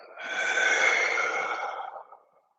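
A single deep yoga breath, drawn in and then released as one long, airy exhale lasting about two seconds, close and clear with no talking.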